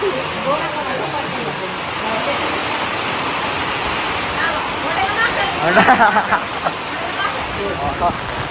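Heavy rain pours down in a dense, steady hiss during an outdoor family function, with a few louder splashes near the end and people talking under it.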